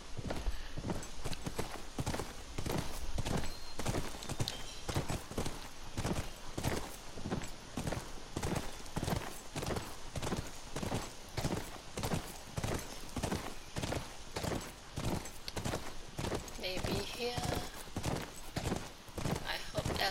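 Horse hooves clip-clopping in the video game The Last of Us, a steady, evenly spaced walking rhythm that stays close and clear, with voices talking over it at times.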